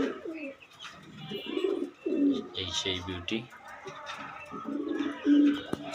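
Pigeons cooing repeatedly nearby, low throaty burbles in a loose rhythm, with a person speaking briefly over them.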